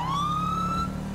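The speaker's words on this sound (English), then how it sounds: "this siren kind of sounds like Florida Highway Patrol siren" A police car siren from the video game GTA 5 with the LSPDFR mod wails loud and close, a single long rising tone that holds steady and then cuts off.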